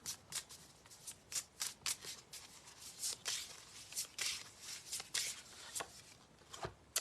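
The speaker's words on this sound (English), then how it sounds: "Let's get a card for Deidre" A deck of tarot cards is shuffled by hand in quick, crisp riffles and taps, repeating steadily at close range with no voices.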